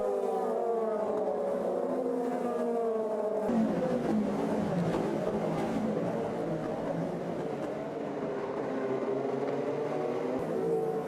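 IndyCar race cars at the start of a race in Detroit make a loud, continuous engine roar with overlapping revving as the field accelerates past, sustained throughout.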